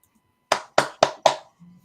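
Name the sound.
hand clapping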